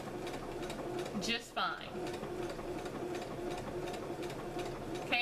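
A sewing machine stitches a swimsuit top in a steady, rapid mechanical chatter that pauses briefly, with a few spoken words over it.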